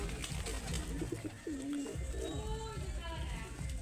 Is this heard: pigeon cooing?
yes